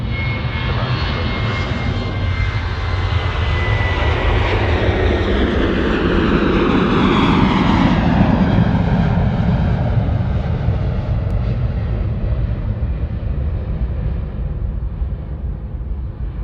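A Boeing 787 landing at Sydney Airport on runway 34 left, its jet engines a steady, loud roar throughout, with a broad whine that sweeps lower as the aircraft passes, heard alone with no voices.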